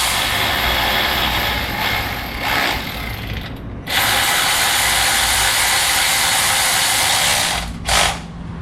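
A ratchet tightens down a part on a 1969 Chevy C10, sounding loud and close as a long run of rapid clicking with two brief pauses.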